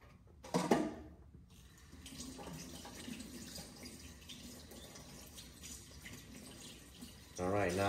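Tap water runs into a kitchen sink while tofu is rinsed, a soft steady splashing after a brief louder gush at the start, with a voice talking faintly toward the end.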